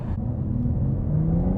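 A BMW M car driving and accelerating, a steady low engine rumble heard from inside the cabin with a rising whir as revs climb, continuous and fairly loud.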